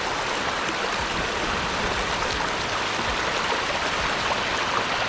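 Sweetwater Creek flows past steadily, a loud, continuous broadband rush of moving water heard up close outdoors, with no talking.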